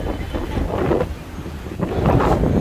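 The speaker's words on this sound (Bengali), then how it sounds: "প্রচণ্ড বাতাস বইতেছে।" Strong wind gusts across a swollen river after three days of rain, a rough continuous rumble buffeting the microphone and swelling louder toward the end, with no talk.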